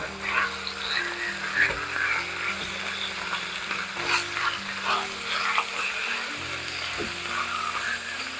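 Pork belly sizzles in a couple tablespoons of hot oil in a pan for a stir-fry, a steady crackling fry with scattered pops over faint low tones.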